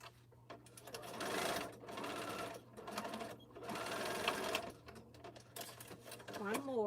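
A sewing machine stitching the boxed corners of a bag, running in several fast whirring bursts with short stops between them, close and steady, with a low hum underneath and a voice talking over part of it.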